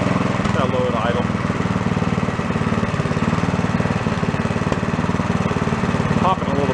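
A small engine drops to a low idle, giving a steady close chugging with fast, even pulses and faint popping. A voice can be heard briefly over it.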